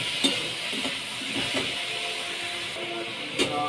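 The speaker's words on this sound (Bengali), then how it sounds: "বড়িটাও দিয়ে নেড়ে নেবো।" Bori and turmeric are stirred in a frying pan, a soft steady sizzle with a few light spatula scrapes and taps against the pan, close up and without talking.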